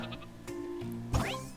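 Sheep in the Lemmings-style puzzle game Flockers give a short, fairly faint bleat over steady game music and ambience, followed by a brief burst of effect noise.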